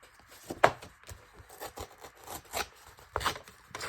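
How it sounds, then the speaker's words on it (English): A paper file folder edge is torn in short rough bursts, with two sharper rips standing out among quieter rubbing and scraping of the paper, close and fairly faint. "Tear down that edge."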